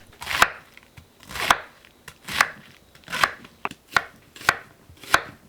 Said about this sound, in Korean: 양배추를 썰어 주세요.